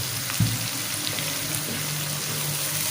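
Onion, ginger and garlic masala for a goat brain dish fries in a pan with a little water, giving a steady broadband sizzle with a brief louder spatter near the start.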